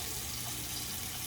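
A tap runs steadily at a bathroom sink during a shave, a loud continuous rush of water filling the whole moment with no voices.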